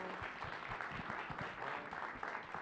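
A film premiere screening audience applauds in a steady, dense wash of many hands clapping, moderately distant and continuous throughout, with faint voices underneath.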